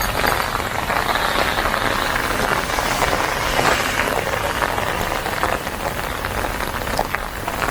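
Heavy rain pours steadily outdoors at a theme park in Beijing, a dense and continuous hiss of drops hitting surfaces close by.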